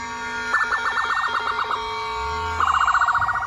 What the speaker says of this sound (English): This siren is used by multiple ambulance companies throughout the United States